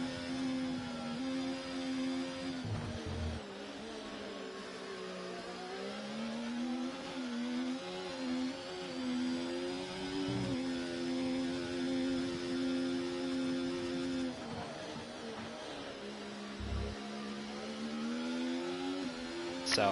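A Haas Formula 1 car engine in the Codemasters F1 racing game drones steadily at high revs, pitch rising and falling through gear changes, with a hollow, muffled tone and no talking.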